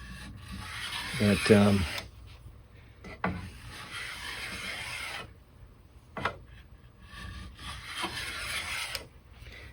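A Patsy rabbet and chamfer plane shaving wood makes repeated rasping strokes in bursts separated by pauses, close and fairly loud, with a brief spoken word.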